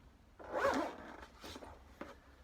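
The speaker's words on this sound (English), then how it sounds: "to actually put the boot on and do the zip back up again" A side zip on a boot cover is pulled along its track, a short rasping zip swelling then tailing off in a couple of quick bursts, close and fairly quiet with no talking.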